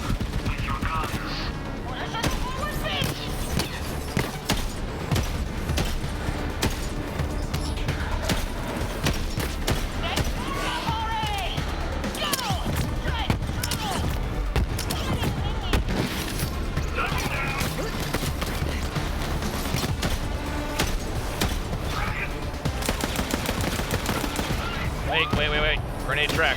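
Continuous gunfire from Borderlands 3 gameplay, dense overlapping shots and bursts running throughout at steady loudness, mixed with game effects and occasional talk.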